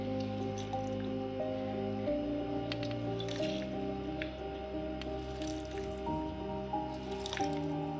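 Close liquid dripping and squishing sounds of lemon juice going into a blender with cucumber, sugar and water, with a steady tonal backdrop of music playing throughout.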